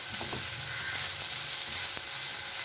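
Chopped pirandai sautés in sesame oil in a pan, giving a constant close sizzle with a few soft stirring knocks and no talk.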